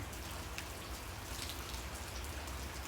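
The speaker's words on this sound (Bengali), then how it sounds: "এই আজকে সারাটা দিন এই টিপ টিপ টিপ টিপ বৃষ্টি হচ্ছে।" Light, steady rain falls on surfaces outdoors, a constant patter with scattered soft drops, fairly faint and even throughout, with no voices.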